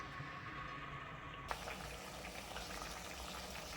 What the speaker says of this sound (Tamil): நம்ம ஊற்றின புளியெல்லாம் வந்து நல்லா கொதிக்குது